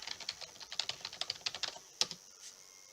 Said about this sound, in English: It wants my username and password. So I'll go ahead and type those in